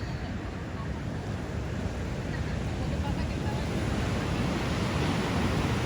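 Sea waves washing onto the shore at night near a beach campfire, a steady broadband surf roar that swells slightly toward the end, close and continuous with no voices.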